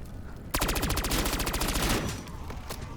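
Rapid automatic gunfire in Call of Duty Zombies, aimed at the top of a pole, rattles out as a fast, loud burst of evenly spaced shots lasting over a second before trailing into a few scattered rounds.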